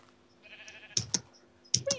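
A faint, thin bleat of a Minecraft sheep rises briefly, followed by a few sharp clicking taps, like a sheep call amid keyboard clatter.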